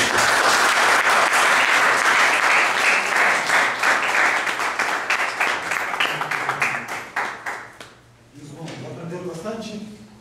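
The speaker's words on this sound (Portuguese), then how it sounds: "Palmas para Jesus." A church congregation claps at a sermon: loud, dense applause for about eight seconds that thins into scattered claps and fades, then a voice begins speaking.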